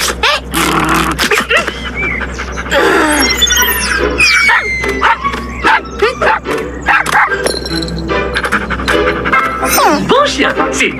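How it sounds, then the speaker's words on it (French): A cartoon dog pants, yips and barks playfully in an animated French series, its excited sounds mixed with lively music and effects while voices talk over it throughout. "Bon chien, c'est bien"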